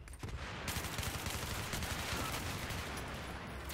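Rapid automatic gunfire from the video game Battlefield 3 rattles in dense bursts, loud and near, with sharp repeated shots running almost continuously.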